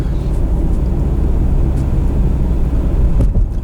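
Mitsubishi Outlander XL crossover on 19-inch wheels crossing a bridge, with a continuous tyre and road roar inside the cabin and a soft thump near the end as it rolls over a joint, without speech.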